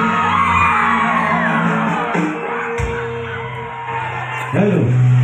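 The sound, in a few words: crowd cheering and whooping at a Bihu cultural evening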